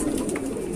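Large, well-bred pigeons cooing at a loft in Bareilly, Uttar Pradesh, a soft continuous coo close by with steady background noise.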